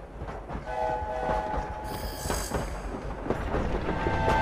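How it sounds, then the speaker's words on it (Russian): Train in the video game Hogwarts Legacy rumbles steadily, with a bright horn blast sounding partway through and faint rhythmic rail clatter beneath, loud and sustained for over four seconds with no talk. "Поезд. Хогвартс."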